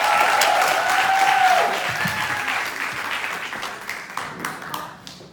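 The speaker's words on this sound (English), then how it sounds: "Let's give a round of applause to Maria I. Melendez." Audience applause for a speaker at NYU's Wagner Graduate School of Public Service, loud and dense at first, then thinning into scattered individual claps toward the end.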